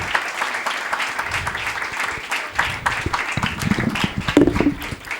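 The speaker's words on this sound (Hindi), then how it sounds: "आप सबकी भरपूर तालियों में।" Audience at a Bible seminary certification ceremony breaks into warm applause to welcome the guests, a dense burst of clapping that swells toward the end, with scattered voices underneath.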